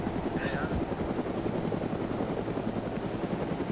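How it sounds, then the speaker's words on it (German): A helicopter in the video game DayZ keeps up a steady, rapid rotor chop with a low engine drone, heard continuously at moderate distance. "Ist er schon wieder weg, der Typ mit dem Hubschrauber?"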